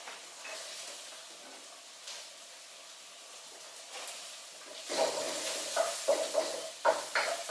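Onions frying in a wok over medium heat: a soft hiss at first, then a louder sizzle surges as they hit the hot oil, with several quick scraping stirs near the end.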